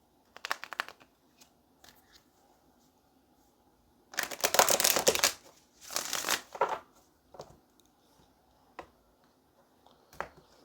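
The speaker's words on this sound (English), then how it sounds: "let's get one more shuffle" Tarot cards are shuffled in a few quick riffling bursts, crisp and close, separated by quiet pauses and small taps.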